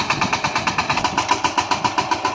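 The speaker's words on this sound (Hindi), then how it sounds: "चलिए हम ट्रैक्टर को मोड़ते हैं।" A VST Shakti 130 DI 13 HP single-cylinder diesel tractor engine chugs steadily while the tractor turns, a close, loud, regular thumping pulse of about five beats per second with no pauses.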